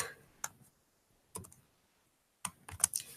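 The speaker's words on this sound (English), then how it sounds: "I could just type in the expression" Sparse keystrokes on a computer keyboard click in small clusters with long pauses between them, close and quiet in an otherwise silent room.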